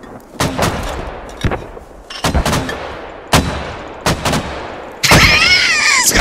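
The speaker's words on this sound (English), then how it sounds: "So many mortars shooting in the same position, just keep shooting." Mortars firing together in the military shooter Squad, a barrage of loud booming shots in irregular bursts with long decaying tails; a sharp whistling whine rises near the end.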